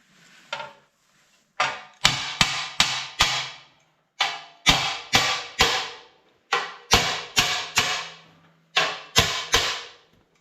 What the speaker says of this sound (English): Here's my hammer.